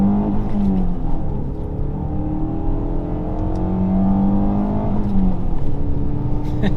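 A Peugeot 407 Coupé pulling away from a standstill, its engine note climbing steadily through the revs with rising and falling tone sweeps as it gears up, loud and close from inside the car.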